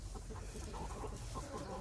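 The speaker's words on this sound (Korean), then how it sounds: "우리 엄마 닭들은 잘 있나?" Mother hens in a coop cluck steadily and softly at close range, several birds overlapping in a continuous low chatter with no talking.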